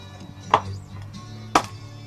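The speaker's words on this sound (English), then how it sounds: "Split it, throw it in the stove." An axe splits firewood for a stove, two crisp thuds about a second apart, close and clear, with a low steady hum underneath.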